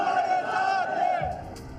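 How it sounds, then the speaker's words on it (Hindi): A large rally crowd roars together in a sustained, loud chant-like bellow after a cleric's speech, then the roar breaks off into scattered noise. "जहरीले मौलाना के बयानों को सुनकर भीड़ का जोश उबाल में आ गया"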